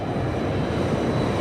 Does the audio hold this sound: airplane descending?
yes